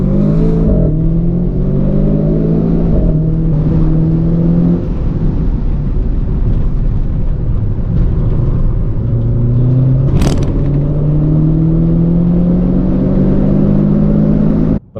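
A RenaultSport Clio 220 Trophy on track at Blyton Park accelerates loudly and close, its engine tone climbing steadily through several gears with brief dips at each shift, and a sharp click near the end.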